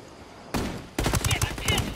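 Gunfire in a shooter video game, a short burst of rapid automatic shots that starts abruptly after near silence and comes loud and close.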